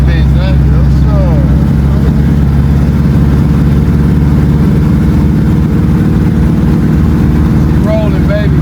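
A carbureted small block Chevy V8 with a Holley electric fuel pump runs loud and close while the car drives off, a steady low engine rumble throughout with voices talking over it.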